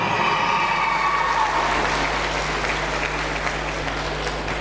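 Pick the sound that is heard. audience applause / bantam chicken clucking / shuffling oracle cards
audience applause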